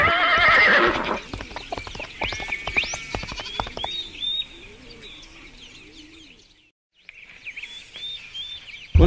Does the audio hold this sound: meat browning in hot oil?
no